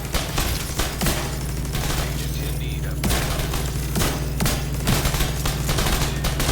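Automated turret firing in The Division 2, a steady stream of rapid shots and booms layered over continuous game music and effects, with someone talking now and then.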